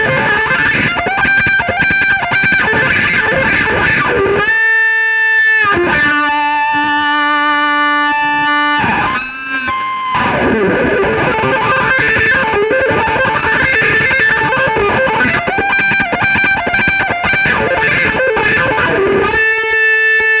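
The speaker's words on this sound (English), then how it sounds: "for the outro wah-wah kind of bit, it's really nice to have the Fuzzrite clone kicked in as well, because you get a really cool sweep" Electric guitar played through a wah pedal with a Fuzzrite clone fuzz engaged, a loud, saturated and continuous tone sweeping through sustained chords and riffs, with a brief pause near the middle before it resumes.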